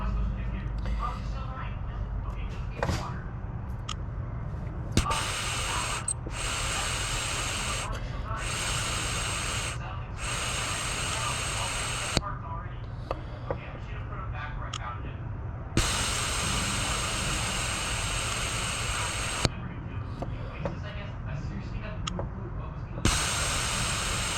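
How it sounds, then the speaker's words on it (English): Breath blown by mouth through an emission system valve from an Acura MDX gives repeated breathy hissing rushes of air, several bursts separated by short pauses, close and fairly steady. "You might be able to hear the air going through. Now I'm just blowing this with my breath"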